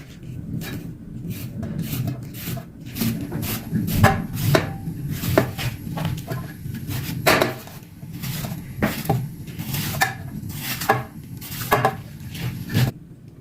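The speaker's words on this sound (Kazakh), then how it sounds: "майдалап турап аламыз" Rapid, steady knife chops on a board, cabbage being finely shredded in a continuous close rhythm with no talking.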